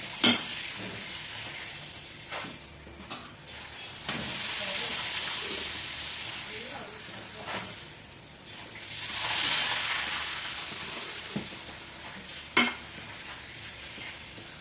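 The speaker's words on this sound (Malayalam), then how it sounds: "ഞാൻ നമ്മുടെ പപ്പടം പൊരിക്കുന്നതാണ്" Pappadam frying in hot oil in a home kitchen gives a steady hiss and sizzle that swells and fades, broken by a few light scrapes and clinks of a utensil.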